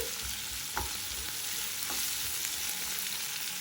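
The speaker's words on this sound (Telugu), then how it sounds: "ఇది కొంచెం బ్రౌన్ కలర్ వచ్చే వరకు వేయించుకోండి" Chopped onion pieces frying in oil until brown for a pickle, a steady quiet sizzle with a few soft stirring knocks, close and unbroken, no one speaking.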